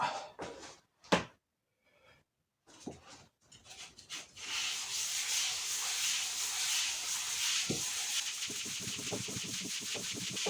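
After a few faint knocks and a quiet gap, close, soft rhythmic rubbing of fine 1200-grit sandpaper on a cylinder head builds into a steady scratchy hiss.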